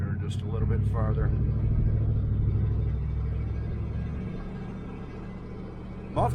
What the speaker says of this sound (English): Muffler sounds pretty good on it.